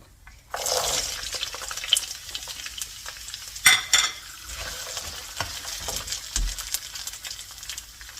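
Carrot and beans are stir-fried for fried rice, with a sizzle starting after a moment, joined by scraping stirs and clatters of utensil on pan, moderately loud and close, with no talking.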